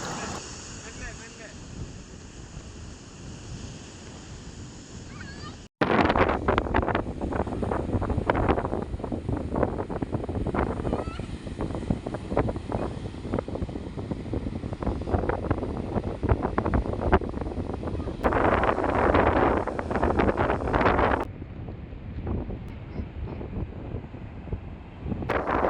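Sea waves surge and wash at Ponnani beach. The roar is loud and continuous, with heavy wind buffeting and rushing water over most of the span, and a sharp break partway through. People can be heard talking over it.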